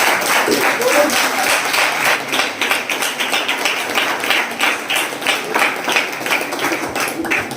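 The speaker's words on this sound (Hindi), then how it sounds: "एक जोरदार ताली पवित्र आत्मा के साथ।" A church congregation applauding, a loud, dense and steady wall of clapping with rhythmic pulses that lasts throughout, with faint voices underneath.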